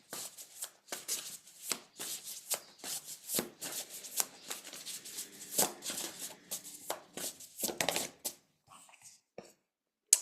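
Tarot cards shuffled up close in a run of quick papery riffles and flicks, steady and fairly loud, tapering into a few sparse taps and a brief pause near the end, with no talking.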